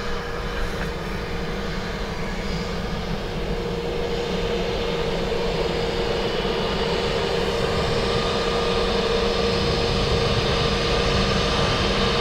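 An airliner lands on runway 28 left at Dublin Airport, its steady broad engine roar holding evenly loud for the whole stretch with no voices.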